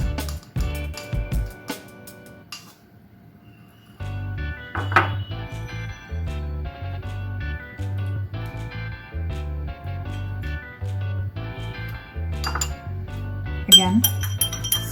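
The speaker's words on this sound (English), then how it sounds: "you stir it until you do not see any of the salt particles" A metal teaspoon stirs salt into water in a drinking glass, giving repeated bright clinks and rapid rhythmic scraping against the glass, close and clear, with a voice speaking in places.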